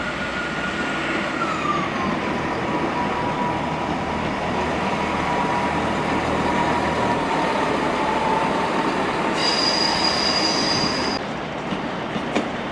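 A train pulls into Cardiff station, wheels squealing in a long high whine over a loud continuous rumble, with a sharper screech rising near the end.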